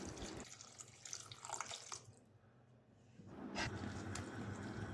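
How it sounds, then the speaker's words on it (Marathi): Lukewarm water from a glass is poured onto spices in a kadhai while making chicken handi, a short splashing pour followed by a quieter gap, then renewed sizzling and bubbling, close and moderately loud. "मसाले करपू नये म्हणून अर्धा ग्लास कोमट पाणी घातलं आहे."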